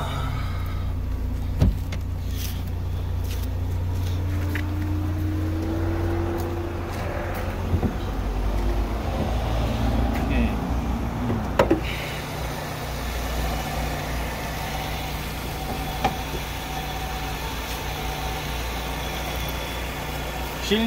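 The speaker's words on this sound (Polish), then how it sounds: "Silnik chodzi dobrze" A Fiat Bravo GT car engine idles steadily with a low, continuous rumble and a faint background hum, no talking, running evenly throughout.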